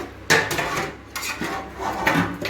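Chicken biryani is stirred in a pot, with three distinct bursts of spoon scraping and knocking against the metal, fairly loud and close, and no voices.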